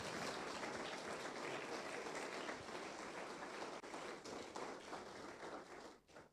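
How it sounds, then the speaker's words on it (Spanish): A congregation applauding during a sermon, faint and distant clapping with a few sharper taps, steady for most of the time before tapering off near the end. "Si alguien puede un aplauso al Señor,"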